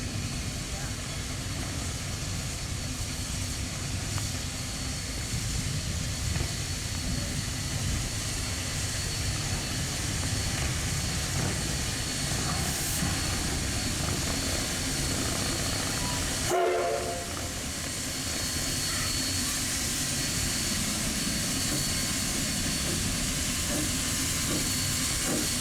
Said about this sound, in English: the company now owns 3 of these locomotives for train rides.